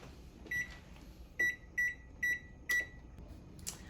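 Oven control panel beeping while set to preheat to 350 degrees: five short, clear electronic beeps at uneven intervals, near and fairly quiet over a faint room hum, with a soft clunk after them.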